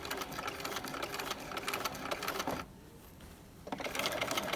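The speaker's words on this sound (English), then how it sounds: "to sew this with a machine baste for, oh, I'd say about 3 inches or thereabouts" A sewing machine machine-basting the waistband of a pair of trousers with a long stitch runs steadily and close by. It pauses once near the end, then resumes its fast, even whirring.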